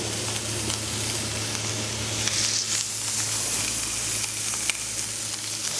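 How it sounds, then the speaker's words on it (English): Duck breast laid flesh side down in a hot pan sizzles and crackles steadily and fairly loud, a dense continuous fry with no voices. "Can you hear that sizzle?"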